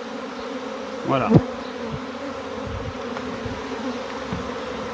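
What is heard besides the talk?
swarm of honeybees buzzing while being smoked into a hive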